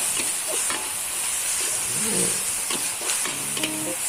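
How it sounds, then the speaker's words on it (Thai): Beef with basil and chilies sizzles and hisses in a hot pan while a utensil stirs and scrapes, with a few metallic clinks near the end. "คลุกเคล้าให้เข้ากันเลยนะครับผมก็เป็นอันเสร็จ"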